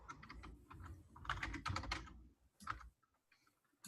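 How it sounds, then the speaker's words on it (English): Fingers type rapidly on a computer keyboard, close and fairly quiet, in uneven bursts of clicking keystrokes with short pauses, the last burst clustered and the clip ending on a fresh press. "Wait, I'm typing this all in wrong."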